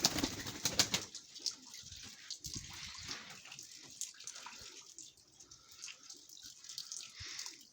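Chocolate-marble Baku pigeons coo softly nearby amid light shuffling and water-like splashes, with occasional wing movement.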